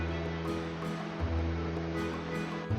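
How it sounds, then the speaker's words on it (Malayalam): A small stream runs full and foaming through a forested riverside, producing a steady, broad rushing wash of water heard up close with no voices. "ചെറിയ വെള്ളമൊക്കെ നിറഞ്ഞ് പതഞ്ഞ് ഒഴുകുന്ന ഒരു കാഴ്ചയൊക്കെ"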